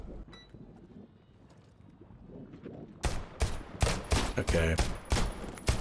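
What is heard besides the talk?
gunshots in the video game Deceit 2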